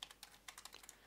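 Quick, faint keystrokes on a computer keyboard while code is entered for a Minecraft 1.7 mod, an irregular patter of light clicks with no voice.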